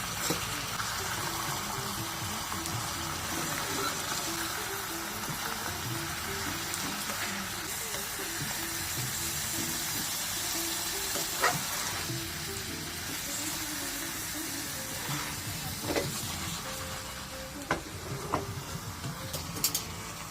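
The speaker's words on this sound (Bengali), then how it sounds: "ঢাকনাটাকে উঠিয়ে মাছগুলোকে একটু নেড়ে চেড়ে দেবো" Rohu fish heads frying in a pan on a lowered flame, a steady soft sizzle with occasional sharp clinks and scrapes as they are stirred.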